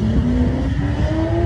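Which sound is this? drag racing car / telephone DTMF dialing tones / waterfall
drag racing car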